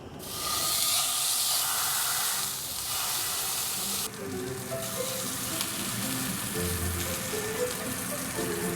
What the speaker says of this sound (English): E. coli only exists on the surface of beef, so we gotta sear it for 15 seconds to kill it